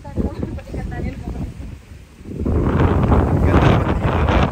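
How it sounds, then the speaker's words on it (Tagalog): Steady gusty wind on the Tila Pilon Hills in Bulacan, Philippines, roars against the microphone, building louder and fuller in the second half, with faint voices underneath. "Mahangin"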